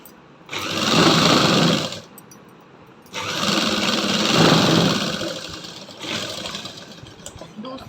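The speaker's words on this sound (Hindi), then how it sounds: "सबसे पहले हम एक कॉर्नर पे सिलाई देंगे" A sewing machine stitches the corner of a wide salwar cuff in three close, steady whirring bursts separated by short pauses, loud and near.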